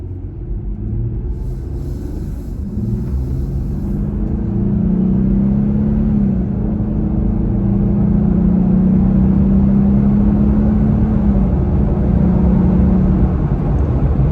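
A Jeep Gladiator pickup engine rumbles loudly and climbs steadily in pitch as it accelerates to 55 mph, a deep continuous drone with no voices.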